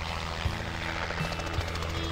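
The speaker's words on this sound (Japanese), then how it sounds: "サイロ展望台から発進する観光ヘリです。" A sightseeing helicopter taking off from an observation deck at Lake Toya hot springs, Japan: its rotor thrums steadily with a whining engine, loud and continuous, with no voices.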